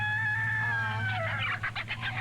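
Backyard pet chickens cluck close by, a run of rough, repeated calls rising over a steady low hum, with no talk.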